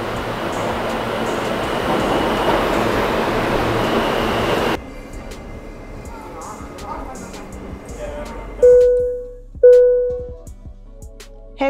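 Two subway trains carry a rider through New York City: a loud, steady rumble of rail travel for the first few seconds gives way to a quieter carriage hum, then two sharp tonal chimes or squeals ring out near the end.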